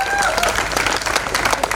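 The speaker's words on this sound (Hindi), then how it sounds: "इनके लिए जोरदार तालियां" A stage show audience gives vigorous applause for the backstage production crew, a thick, continuous wash of clapping with crowd noise mixed in throughout the short stretch.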